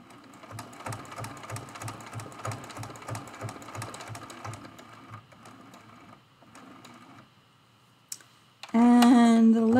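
A sewing machine stitching down a leaf and stem on a hummingbird-and-flowers quilt, running in a steady rapid rhythm for several seconds, pausing, then stopping before a louder burst of other noise.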